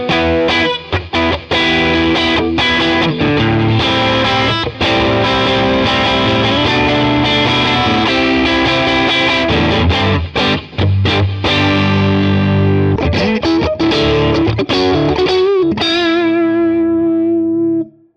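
Gusta Harel S125 electric guitar played through vintage-style crunch distortion, loud sustained chords and riffs running continuously, ending on a ringing chord that fades out, with no talk.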